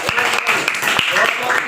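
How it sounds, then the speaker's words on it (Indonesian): Students in a classroom clap for a classmate in a short burst of dense, close applause that mixes with a voice speaking. "Beri tepuk tangan untuk Wendy."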